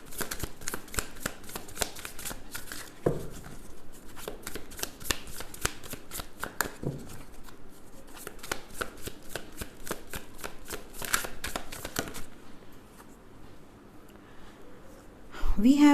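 A deck of tarot cards being shuffled by hand: rapid, crisp riffling and flicking repeated steadily, fairly close and quiet, then slowing near the end before a brief louder sound.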